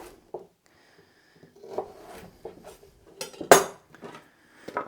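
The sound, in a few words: knife cutting carrots and potatoes into quarters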